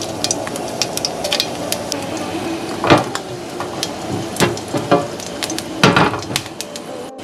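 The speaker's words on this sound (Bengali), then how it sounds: "আর এবারে আমি একটু গোটা জিরে ফোড়ন দিলাম আর তার সঙ্গে একটু শুকনো লঙ্কা চিড়ে দিচ্ছি" Whole cumin seeds and dried red chillies crackling in a small amount of hot oil, a steady close sizzle broken by a few louder spattering pops and light stirring clinks.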